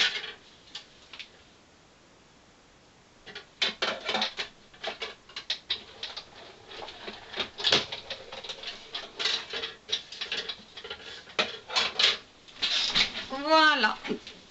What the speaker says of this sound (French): Je vais juste découper vite fait ça à la Big Shot.